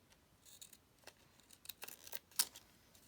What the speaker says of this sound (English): this old paper does not like being cut by the crunchy scissors